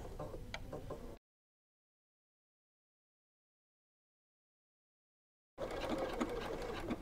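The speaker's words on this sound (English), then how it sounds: "Start by securing that bottom edge and top stitch up around." Sewing machine top-stitching around the edge of a cork wallet: a close, steady mechanical stitching hum in two short runs separated by a few seconds of silence.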